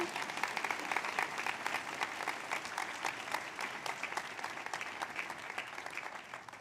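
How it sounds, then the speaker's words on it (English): Sustained applause from a large audience at a university presidential inauguration, steady dense clapping at moderate distance, alone without talk. "How about one more round of applause?"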